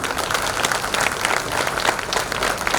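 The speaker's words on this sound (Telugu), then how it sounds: "మా ఆర్కెస్ట్రా వాళ్ళకి కూడా ఒకసారి చప్పట్లు కొట్టండి." Audience at a large fire ritual ceremony applauding the orchestra, a dense continuous burst of many hands clapping that fills the whole moment.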